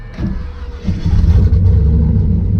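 A turbocharged LS engine in a 1995 Chevy truck built for drag racing idles roughly, then revs up loud and close with a deep, throbbing rumble.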